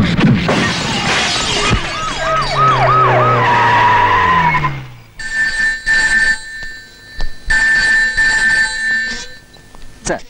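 A telephone rings at a police station in two sustained bursts of trilling rings, close and clear, following a loud screech and crash.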